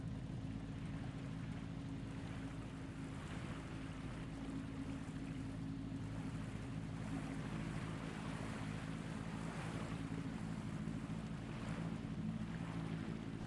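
A boat's engine drones low and steady with wind and water rushing past on the Neretva River in Mostar, Bosnia and Herzegovina, a continuous wash with no voices.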